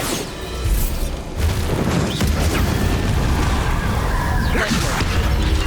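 A Bombarda blasting spell explodes in the Hogwarts Legacy video game, giving a loud, close boom and crash followed by a rumbling wash of debris and whooshes.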